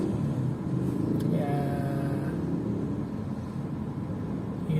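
Steady road traffic on a busy street in Tayuman, Manila, lined with jeepney and tricycle terminals at every corner: a continuous loud low engine rumble with passing vehicles and a brief higher whine, no talk.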